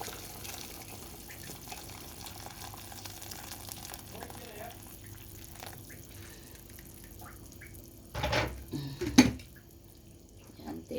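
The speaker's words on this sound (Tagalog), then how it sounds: "Lagyan natin nilagay ko na tubig ay mainit para mabilis siya magkulo." Hot water poured into a cooking pot of chicken tinola gives a brief splashing gush near the end, close, over a low kitchen hum.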